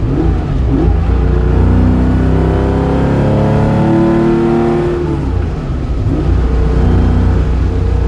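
A car engine and exhaust rev up to 4,500 RPM in third gear, a loud rising drone that sweeps upward, eases off, then climbs again, close and with no talk.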